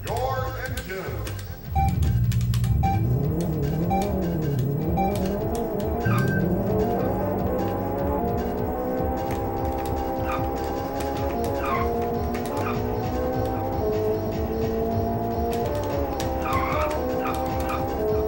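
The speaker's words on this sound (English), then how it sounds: "Gentlemen, start your engines." Race car engines in the Atari Jaguar game Checkered Flag drone and whine loudly, rising and falling in pitch as they rev, steady and continuous after a brief quieter start, with skidding noises mixed in.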